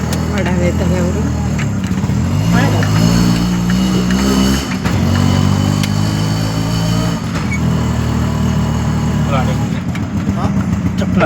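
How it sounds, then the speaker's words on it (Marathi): Auto rickshaw engine droning steadily on a road near Panvel, close and loud throughout, with a brief dip in the middle and traffic noise around it. "आणि रिक्षा बघितली बघा, रिक्षा आली."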